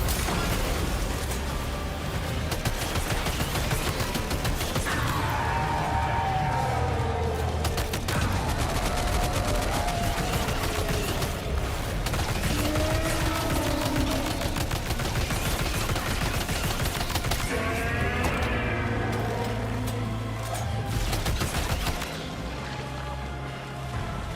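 Heavy gunfire from big guns in the video game Death Stranding, a dense, continuous barrage of rapid shots and booms lasting throughout, with whining tonal effects rising and falling beneath the din.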